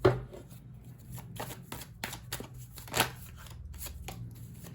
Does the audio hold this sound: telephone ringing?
no